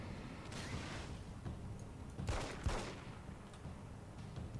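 Gunfire in the video game Alan Wake's American Nightmare, a few sharp shots around the middle, fairly distant and low in level, over a steady rumbling game background.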